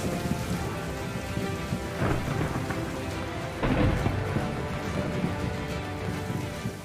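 Heavy rain pours steadily over a desert ecosystem tank as thunder rumbles, with louder rolling peaks around the middle, a dense continuous storm roar and no voices.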